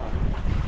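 Strong wind buffets the microphone at sea during a night storm with lightning, a continuous loud low rumble and gusting roar with possible water wash, no voices.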